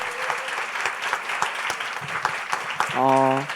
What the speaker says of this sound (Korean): 큰 박수로 시작해 보도록 하겠습니다